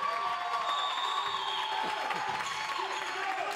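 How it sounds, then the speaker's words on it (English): A home crowd at a high school boys basketball game between Christian Academy and John Paul II roars and cheers continuously, a dense wash of voices filling the gym as an announcer talks over it. "now this Christian Academy crowd is really getting into it"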